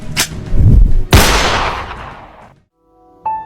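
A dramatized pistol gunshot firing a golden bullet: two sharp loud bangs, the second followed by a long decaying boom and rumble, then silence and a brief tonal chime at the end.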